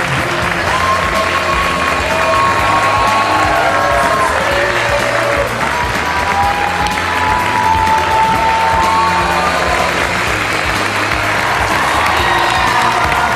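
Loud, sustained applause and cheering from a studio audience at an X Factor Armenia audition, dense clapping with scattered shouts and whoops that fills the whole stretch without a break.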